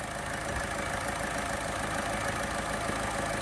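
A Volkswagen Polo's engine idles steadily just after starting, with the car being repaired for overheating after a burnt-out radiator fan motor was replaced. A close, even mechanical hum and rattle runs without breaks.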